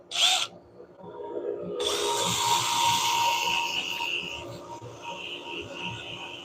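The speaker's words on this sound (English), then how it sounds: "Okay, now we're at 240 grit." A wooden bowl spinning on a lathe is sanded with 240 grit paper, a steady whirring hum and rubbing rasp close by after a brief sharp burst at the start.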